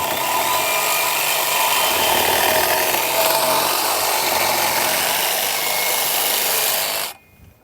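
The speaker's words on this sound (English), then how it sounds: "You can use a metal cutting bandsaw like we have here." A metal-cutting bandsaw rasps steadily through a steel trailer hitch cross tube, loud and close with a constant gritty grind, then stops abruptly near the end.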